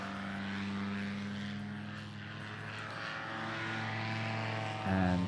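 A paramotor engine at full throttle during a slalom race at the FAI World Paramotor Championships, a steady buzzing propeller drone with constant pitch and level that swells slightly near the end as the wing passes close.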